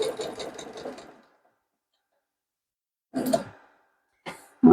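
A sewing machine stitching fabric for a scrappy coin purse, a close rapid whir of needle strokes for about a second, then silence broken by two short bursts.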